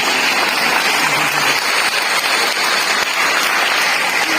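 Audience applause at the Faiz Festival during a talk by Javed Akhtar: dense, loud, steady clapping that fills the whole stretch, with no voices over it.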